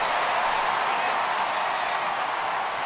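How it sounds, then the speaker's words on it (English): Steady broadband crowd roar from a baseball stadium crowd in MLB The Show 18, rising as fans get up for a 3-2 count; continuous and fairly loud throughout, with no distinct voices. "Crowd gets up for the 3-2"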